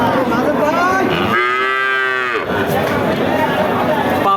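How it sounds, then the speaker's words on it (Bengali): A dairy cow with her young calf at a busy cattle market gives one long, loud, drawn-out moo over steady crowd noise. "এইদিকে একটা চমৎকার গাভী সাথে বাসুর"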